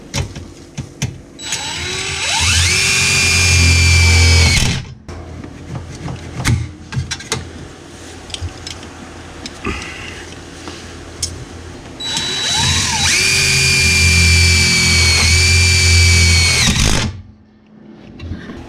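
Power drill driving a self-tapping screw into a car's custom interior panel: two long whining bursts of the drill motor, each about four seconds, separated by a quieter stretch of handling noise, close and loud.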